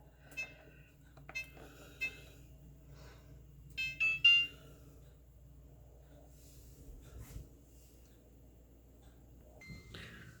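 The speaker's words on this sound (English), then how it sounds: "again with the clock just beeping away" Short electronic beeps from a clock timer sound intermittently in a quiet room, a few isolated tones followed by a quick cluster, with faint rustling in between.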